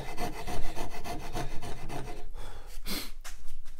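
StewMac Razor file rasping over a wooden guitar neck by hand, quick rhythmic strokes close up and moderately loud, a short pause, then a few more passes, with no talk.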